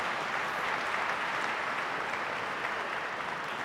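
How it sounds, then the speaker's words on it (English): Steady, dense applause from a large audience at a police constable badge ceremony, honouring the families and friends of the new recruits; loud, continuous clapping fills the whole stretch with no voices breaking through. "One more round of applause for the family and friends of our newest members."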